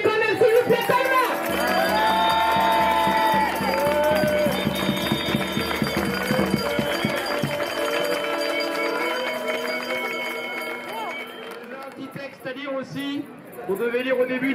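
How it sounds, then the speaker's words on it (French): Crowd at an anti-pass street protest in Colmar applauding firefighters, a dense sustained wash of clapping and cheering with shouts and a loud voice over it, fading toward the end. "un petit applaudissement pour les pompiers quand même, s'il vous plaît"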